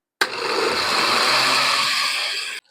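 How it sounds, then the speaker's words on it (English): A kitchen blender whirs through chipotle barbecue sauce in one loud, steady burst of a couple of seconds that starts and stops abruptly. "We'll blend this."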